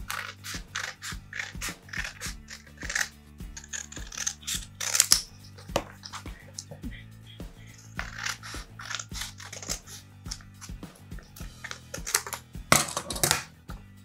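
Scissors cut through a square of fabric for a reusable face mask, with rapid, close snipping clicks repeating steadily over a faint low hum.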